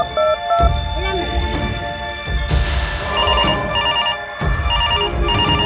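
A telephone rings loudly and close in a comic Bengali sketch, a repeating electronic ringtone with a steady melodic pattern and brief pauses between bursts.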